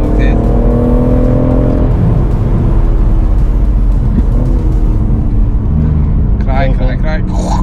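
A BMW M140i hot hatch's six-cylinder engine drones loud and close, holding a steady note throughout while people talk over it.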